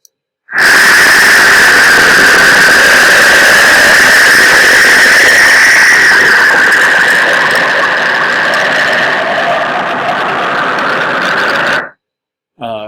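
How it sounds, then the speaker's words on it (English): A winter storm effect: a continuous, loud howling roar of wind that runs steadily for several seconds before cutting off abruptly. "here is the sound of that winter storm"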